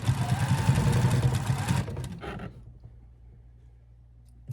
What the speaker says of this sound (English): So now we're just sewing things back up by the seam.